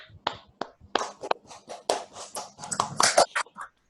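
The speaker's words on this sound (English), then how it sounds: "If you can unmute and give them a round of applause." Sparse, uneven claps come from a few webinar participants on their own microphones, sounding as scattered separate taps rather than a unified round.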